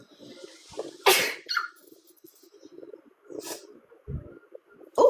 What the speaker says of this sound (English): I got goosebumps from that sneeze